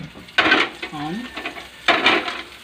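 Onions, garlic and chili drop into hot oil in a pan for spicy pancit canton, giving two loud bursts of sizzling with quieter frying and stirring between them; a brief voice is heard.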